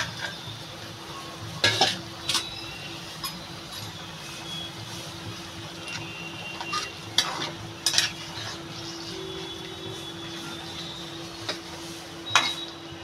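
A curry of taro stolons with fried puti fish cooks in a pan with a soft, steady sizzle, broken by several sharp clinks of a utensil against the pan; nobody speaks.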